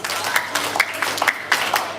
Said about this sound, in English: let us give another round of applause. Short 4-H clap